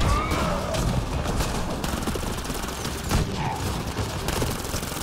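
Flak cannon fire in Mass Effect Andromeda comes as repeated sharp bursts over dense battle noise, loud and close, with shots landing every second or so and no voices.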